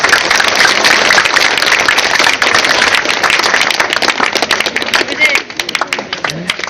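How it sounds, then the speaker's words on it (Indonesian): A school audience bursts into loud, dense applause during an education official's visit, rapid overlapping claps filling the space before tapering off slightly toward the end. "Bisa ya, tepuk tangan."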